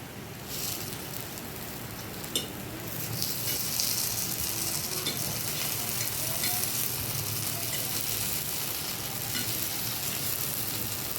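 Chettinad-style spicy kuzhi paniyaram cook in a pan with a constant close sizzle and crackle, plus a few light scrapes near the start.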